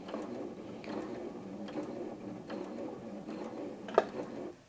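A Janome M200 QDC sewing machine stitches with a soft, even mechanical whir and faint rhythmic ticking, ending in a small sharp click just before it stops.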